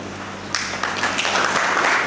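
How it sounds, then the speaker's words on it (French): Audience applause in a school hall at a book launch, a brief patter of clapping that swells slightly over two seconds, fairly close. "Merci pour les applaudissements,"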